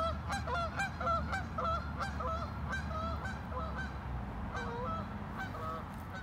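Geese take off in a honking chorus, loud and close, with repeated overlapping honks in quick succession over a low rumble of movement.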